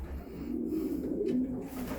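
Racing pigeons in a loft give low, soft cooing, a continuous murmur of several birds close by without any talking.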